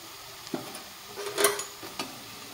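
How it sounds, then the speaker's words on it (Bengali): Potato pieces fry gently over low to medium heat in a pan while being stirred, giving soft sizzling with a few distinct scraping and clinking stirs, close and fairly quiet. "তো আমি একটু হালকা নেড়ে নেড়ে আমি ভাজছি।"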